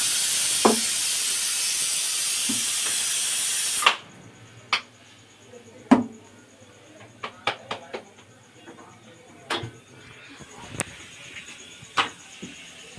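A home pressure cooker releases a loud, steady steam hiss for about four seconds, then cuts off abruptly, leaving scattered kitchen clicks and knocks in a quiet room.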